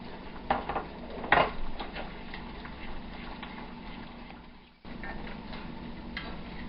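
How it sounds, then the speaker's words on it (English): Rabbit pot pie filling is stirred in a pot until it thickens, a steady close scraping and soft clinking with a faint simmer underneath, a couple of sharper knocks early on and a brief pause before the stirring resumes. "you want to keep it continuously stirring until it thickens up to the consistency that you want"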